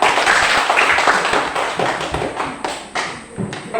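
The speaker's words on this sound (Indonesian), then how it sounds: "Tepuk tangan untuk Caca." A classroom claps for a student, with many hands slapping in a dense, irregular burst that stays loud at first and then thins into scattered claps toward the end.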